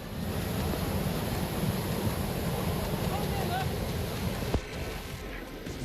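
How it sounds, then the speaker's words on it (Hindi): Floodwater rushes in a strong current, a dense continuous roar with a windy, surf-like wash throughout, and a voice talks over it. "पानी की तेज धार सब कुछ बहा रही है।"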